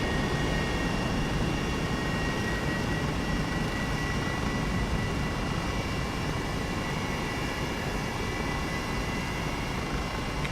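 Airbus H135 helicopter in a flight simulator game, its steady rotor and turbine drone loud and continuous throughout with no pauses and no talking.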